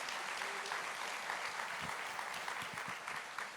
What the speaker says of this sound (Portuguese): Dá uma aplauso ao Senhor.